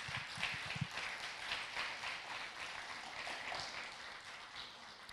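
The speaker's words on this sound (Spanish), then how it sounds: "Dele un aplauso a Jesús." Church congregation applauding: steady, faint clapping from a crowd that continues throughout, distant and diffuse.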